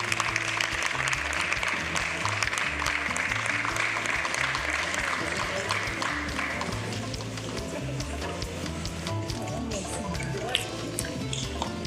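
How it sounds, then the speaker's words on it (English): Applause at a live event with a state health minister being introduced, a continuous crackling patter of many hands heard from a distance, steady and fairly subdued, fading slightly toward the end with murmuring mixed in. "A round of applause for him, please."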